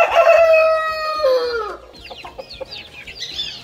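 Pure European Brahma chickens in a coop: a rooster's long crow, then a series of quick, sharp clucks from the hens close by.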